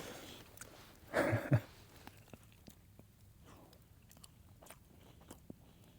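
A single close, crunchy bite into freshly baked golden-brown bread outdoors, followed by soft chewing and faint rustling in a quiet setting.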